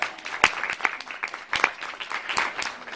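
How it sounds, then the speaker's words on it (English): Audience applause at an evening networking event, a brief round of many hands clapping at close range with a few sharper individual claps standing out. "Let's give Phyllis a round of applause."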